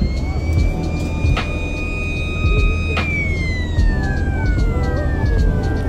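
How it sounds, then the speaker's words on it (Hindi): A vehicle siren near a Brahmaputra River crossing on Majuli island wails in a loud, sustained tone that sweeps downward, over a constant rumble of engines and traffic. "एक सायरन बजा के आ रहा है,"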